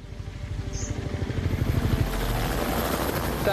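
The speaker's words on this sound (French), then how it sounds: "C'est un hélicoptère?" A helicopter's rotor thumps rhythmically and grows louder as it approaches, with wind-like rushing noise building around it.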